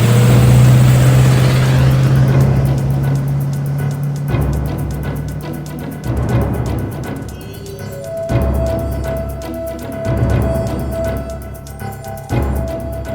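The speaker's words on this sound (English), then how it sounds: "Gentlemen, start your engines." Car engines start and rev loudly, a steady roar that surges and dips in several bursts of acceleration throughout.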